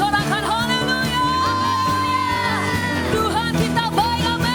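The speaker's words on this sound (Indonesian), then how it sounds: "ayo sorakan haleluya" Church congregation shouting during worship, loud sustained crowd voices over continuous music with sung tones.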